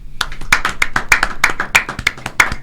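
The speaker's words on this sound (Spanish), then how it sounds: "Démosle la bienvenida con un fuerte aplauso al Señor, a nuestra hermana Stephanie Santana." Applause welcoming a speaker at a church gathering, a few pairs of hands clapping in a quick, fairly even rhythm, close and clear, with no talking.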